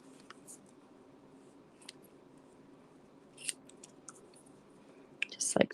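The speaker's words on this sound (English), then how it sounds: "And then we're going to trim this off." Scissors trimming paper for a handmade card box: faint, close snips and crisp paper rustles scattered over a quiet room hum, ending in a few louder cuts.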